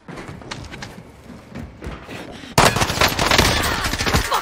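Rapid automatic gunfire in a Call of Duty Warzone match, scattered shots at first, then a loud, dense burst of sustained firing in the second half.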